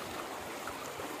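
Water rushing steadily through a cold mountain channel that feeds a water-driven flour mill, a continuous broadband flow heard close and alone with no pauses.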